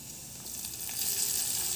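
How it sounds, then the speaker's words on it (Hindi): Chillies frying in hot oil for a mixed pigeon-pea and urad dal, a short, close burst of bubbling crackle and sizzle that grows slightly louder toward the end, with no voices. "अब हम इसको तेल पर डाल देंगे। जब हमारा तेल फ्राई, जब हमारा मिर्च फ्राई हो जाएगा"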